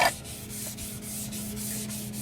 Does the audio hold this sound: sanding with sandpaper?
yes